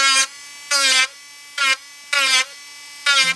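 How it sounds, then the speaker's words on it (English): A Dremel rotary tool grinds at a doll's feet around the toenail area in five short, close, high-pitched whirring bursts separated by brief pauses. "Then the Dremel comes in."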